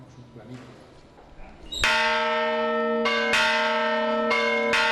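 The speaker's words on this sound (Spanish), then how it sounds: "Las campanas de su torre anuncian que el día en Madrigueras sigue avanzando" Church tower bells ring out over the village of Madrigueras: a quiet murmur, then a loud struck bell with a long ringing tail, followed by two further strikes spaced about a second and a half apart.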